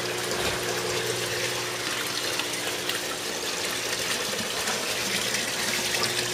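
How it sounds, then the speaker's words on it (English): Water from an aquaponics fish tank pours out of an outflow pipe into a sump, making a steady, continuous rushing and splashing that stays close and even throughout, with no talking. "The outflow from this pipe, if you look down here where it flows into the sump"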